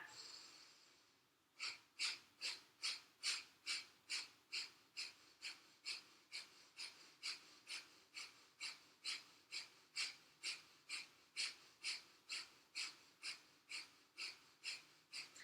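Rhythmic forced exhales during a vinyasa yoga breathing exercise, about twenty-five sharp, evenly spaced breaths in a steady pulse, close and clear with no talking.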